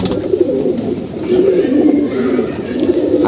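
Young pigeons coo close by in low, repeated throaty rolls that overlap into a near-continuous murmur, with no talking.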